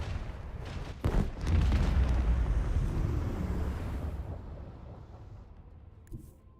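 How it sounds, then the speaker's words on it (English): A macro cannon volley fires in the video game Warhammer 40k Rogue Trader: a sharp crack, then a heavy, booming roar that rolls on and slowly fades over several seconds, with a faint thump near the end. "Macro cannons! Volley!"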